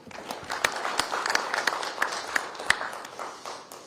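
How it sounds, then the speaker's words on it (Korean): An audience claps for a Seoul mayoral candidate at a Kwanhun Club debate forum, a steady patter of many hands with a few sharper, closer claps standing out. "박수 한번 보내주시기 바랍니다."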